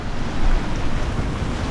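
Wind and waves around a moored sailboat in a harbor during a pouring rainstorm, a dense continuous rushing wash with gusty swells, close and fairly loud.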